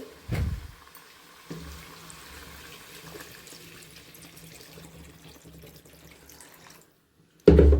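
Water poured into a cooking pan of paneer and potatoes, a steady gentle trickling after a brief clatter, ending abruptly with a loud close splash.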